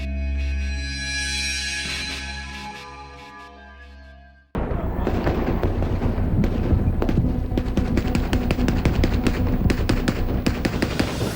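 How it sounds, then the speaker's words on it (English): Rapid AK-47 gunfire during the North Hollywood bank heist shootout, a dense, loud stream of sharp cracks and bursts that erupts abruptly after a few seconds of sustained musical tone and continues without pause. "Shots are being fired from AK-47."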